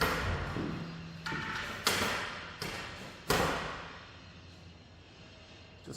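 Window blind in an abandoned hospital building banging as wind drafts through smashed windows; four or five sharp irregular knocks, each fading quickly, in a quiet echoing room.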